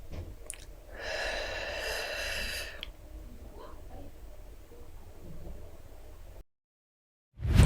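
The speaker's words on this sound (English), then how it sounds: "Take a deep breath in and out" A slow, deep breath drawn in with a soft airy rush, then let out more gently and fading, close and quiet, with no talking.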